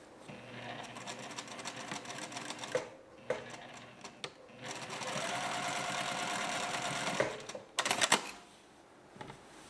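A sewing machine stitches fabric for a box-tuck yoke skirt in rapid whirring bursts separated by short pauses and clicks, close and fairly quiet.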